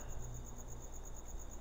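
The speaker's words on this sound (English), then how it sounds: "the crickets are chirping away" Crickets chirp steadily in the Farming Simulator 15 farm world at sunrise, a thin continuous high trill that holds evenly throughout, with a low ambient hum beneath and no talking.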